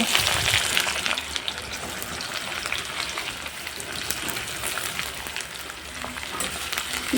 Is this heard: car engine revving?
no